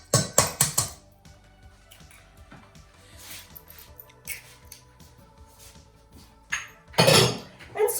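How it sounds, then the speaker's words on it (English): Banana bread batter being mixed in a bowl with melted butter and egg, giving a few quick clinks and scrapes of utensil against bowl, with soft squishy stirring between, fairly quiet and close. "that obviously all needs to be mixed up really well"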